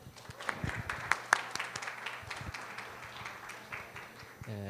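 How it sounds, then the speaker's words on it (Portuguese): Scattered, fairly faint applause from a seminar audience greets a historian lecturer at a public-safety course on child labour, irregular claps rising and thinning, with a low hum and a voice starting at the end. "peço para ele uma salva de palmas"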